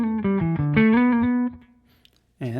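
Clean electric guitar played on the neck pickup, a short run of bright picked notes with clear harmonics ringing for about a second and a half, then fading out before a new note starts at the very end.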